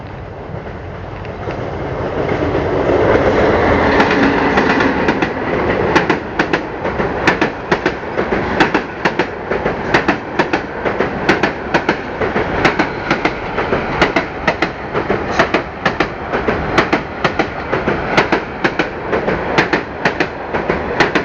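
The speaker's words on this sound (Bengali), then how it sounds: "দেখছেন ট্রেনের কি সাউন্ড, ও মাই গড।" A moving train nears a station, its wheels clattering on the track. The rhythmic clickety-clack is loud and close and builds into a continuous roar for about twenty seconds, with no talk over it.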